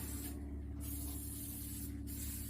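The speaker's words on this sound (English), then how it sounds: "I use this to spray it, and it helps it heal up really well" Fight Back post-milking teat spray is misted onto a dairy cow's teats in two short hissing bursts from a pump sprayer, close and crisp, with a low machine hum steady in the background.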